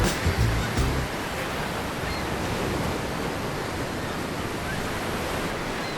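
Surf breaks and washes along Brighton beach in a broad, steady roar with some wind rumble. A heavier low thump comes in the first second, and the rest holds an even, close wash of water.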